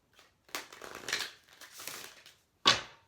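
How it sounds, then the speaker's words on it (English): A deck of cards is shuffled nearby in several soft, papery riffling bursts, ending with a sharper snap as the cards settle; quiet overall with no talking. "The only prep you have to do is to shuffle the cards."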